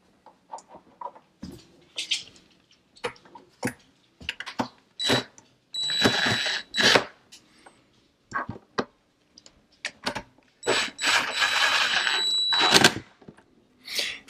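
An impact driver drives screws through holes into a cabinet handle, giving repeated short bursts of rattling, whirring hammering separated by pauses and small handling clicks, close and fairly quiet.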